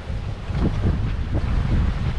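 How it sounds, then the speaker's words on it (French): Wind buffets a solo sailboat on rough open sea, a loud steady rush of air and water with low surging wave wash and no voices. "La mer est toujours agitée"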